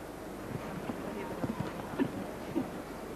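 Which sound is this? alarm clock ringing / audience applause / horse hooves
horse hooves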